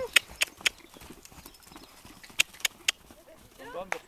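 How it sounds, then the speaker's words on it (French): Hooves of an endurance trail horse clip-clopping on a hard surface, sharp clicks in an uneven pattern of groups of three separated by pauses, close and fairly loud, with people talking in the background. "c'est un cheval de rando, ton cheval, c'est un cheval d'endurance"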